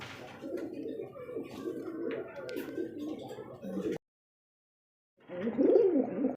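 Shirazi pigeons coo in low, rolling murmurs that run steadily for about four seconds, stop in a brief silence, then return louder and closer, with faint chirps above.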